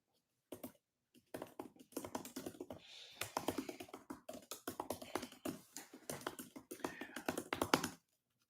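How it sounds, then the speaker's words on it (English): Rapid, uneven clatter of fingers typing on a computer keyboard, close and fairly quiet, with short pauses between bursts of keystrokes in an otherwise quiet room. "Type on that keyboard."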